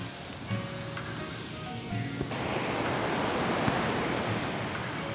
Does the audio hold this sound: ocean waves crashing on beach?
yes